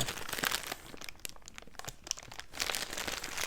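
Crinkly plastic wrapping on a parcel of books being handled and pulled open, with irregular rustles and crunches close to the microphone.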